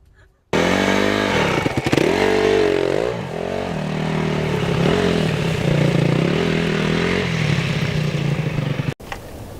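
A dirt bike engine starts abruptly and revs loudly and steadily, the pitch rising and falling through gear changes, before cutting off near the end.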